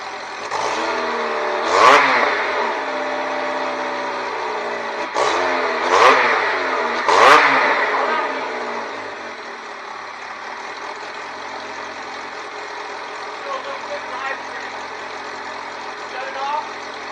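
A Honda K20 engine in a 1987 Fiero GT, breathing through the stock V6 exhaust, blips through three sharp revs before settling into a steady idle, with voices talking over it.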